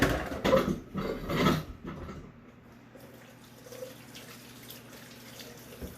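Tap water runs into a large pot or sink as sticky residue is rinsed off at home, with louder splashing and gushing in the first two seconds, then settling into a quieter steady trickle.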